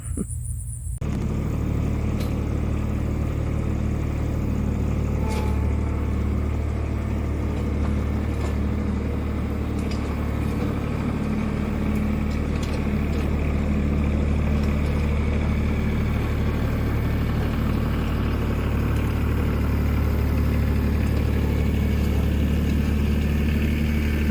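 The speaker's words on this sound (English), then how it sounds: "let me get this tractor out and start mowing" A steady low engine drone runs throughout, a riding lawn mower's small motor idling and rumbling close by with a constant, even tone.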